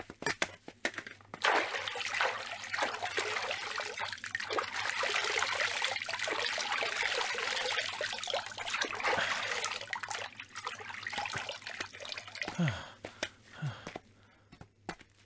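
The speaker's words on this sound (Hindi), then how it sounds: "पानी की धारा यहाँ कहीं भी हो सकती है।" Water trickling and splashing steadily as people wash and drink at an outdoor water source, a continuous wet flow lasting about twelve seconds before tapering off, with faint voices near the end.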